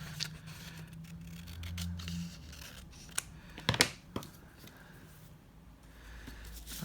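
Scissors snip through a scrap piece of card at close range, a few crisp cuts clustered mid-way amid soft paper handling, with a quiet background and no voices.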